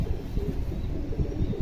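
Pigeons on a rooftop cooing close by in low, repeated throaty pulses.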